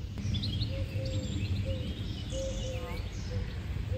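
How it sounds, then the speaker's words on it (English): Several birds chirp and sing in the Kent countryside, away from any busy road, with repeated tweets and short whistled calls over a soft outdoor background. "the only noise you hear are lots of birds."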